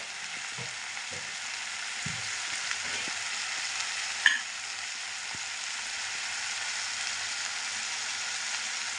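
Curry leaves sizzle in hot oil in a pan, a steady close frying hiss with a few soft stirring clinks and one sharp tap, no talk.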